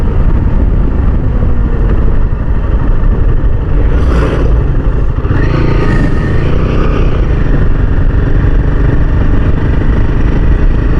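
Royal Enfield Himalayan 450 motorcycle being ridden, its engine a loud steady drone mixed with heavy wind rush throughout, close to the microphone.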